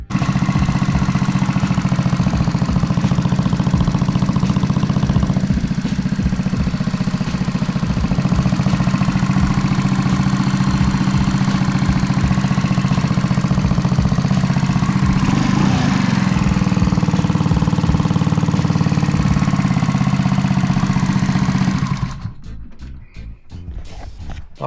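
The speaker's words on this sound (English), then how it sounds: "It's running. It's idling." A RIVA125 scooter idles steadily after an exhaust leak repair, a close, constant low putter for over twenty seconds before the engine cuts out abruptly near the end.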